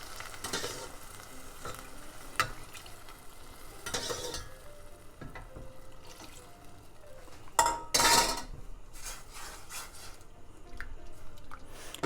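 Saffron risotto alla Milanese simmering in broth in a pan, with a gentle steady sizzle and bubbling broken by occasional scrapes and clinks of a spoon stirring against the pot, one louder clatter near the end.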